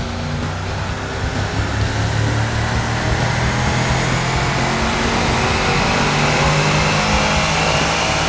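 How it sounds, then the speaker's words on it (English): A 2010 Chevrolet Camaro engine holds a steady, loud, sustained roar under load on a chassis dyno, with constant droning tones and no voices. "we just ran the 2010 Camaro on the roll stock and it made 359 real horsepower"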